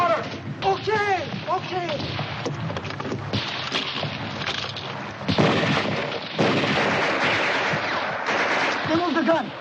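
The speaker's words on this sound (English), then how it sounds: "Hurry up with that mortar." Mortar fire in a 1951 war film: heavy booms and blasts, with loud surges in the second half, mixed with shouted voices and other battle noise.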